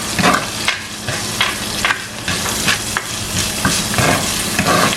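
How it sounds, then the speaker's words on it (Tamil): Garlic and curry leaves sauté in a hot pan for sambar, a steady close sizzle broken by repeated scraping strokes of a spoon stirring through the mixture. "இப்போ இதை மிக்ஸ் பண்ணி போட்டு ஒரு 3 நிமிஷம் வதங்க விடுவோம்."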